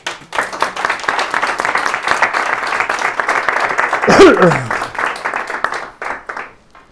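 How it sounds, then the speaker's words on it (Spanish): An audience at a talk on Freemasonry breaks into loud, dense applause that holds steady for several seconds before tapering off, with a voice briefly heard through the clapping. "Un aplauso para él."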